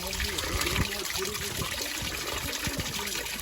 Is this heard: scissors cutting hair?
no